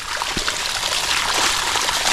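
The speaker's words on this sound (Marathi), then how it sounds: "हे पाणी येतं आहे पावसाचं पाणी" Rainwater from a day of heavy downpour runs through a rice paddy field, making a steady, close rushing trickle with a soft splash near the start and no voices.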